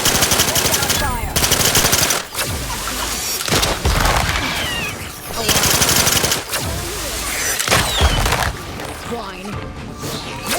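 Machine gun fire rattles in rapid, loud bursts during a firefight in The Outer Worlds 2, with brief gaps and booming impacts between volleys, and voices talk under the shooting.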